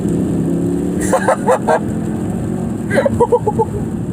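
A Mercedes C63 AMG W204 with a V8 rumbles loudly and close by, its deep engine note steady with a few short revving bursts, while a voice is heard faintly in places.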